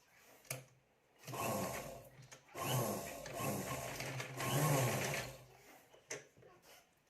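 A sewing machine stitches a potli pouch in bursts of steady mechanical whirring and rattling, with brief pauses and clicks between runs of stitching.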